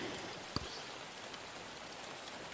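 Steady rain falls, a soft, even hiss of drops heard faintly at a distance, with one brief louder tap partway through.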